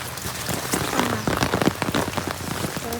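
Steady rain pattering hard on a nearby surface, dense drops with scattered louder splats, continuous and unbroken by any talk.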